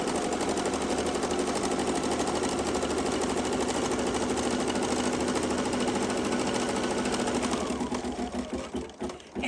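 A domestic embroidery machine stitches a navy sampler block held in its hoop, a loud steady rapid needle rattle running continuously and alone, turning uneven and pulsing as it slows near the end.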